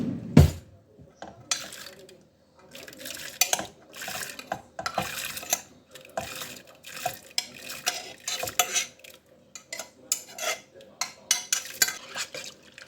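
Cracked wheat (tsavar) is stirred in a pot, with close, intermittent scraping and clinking of a spoon against the pot in irregular bursts and short pauses.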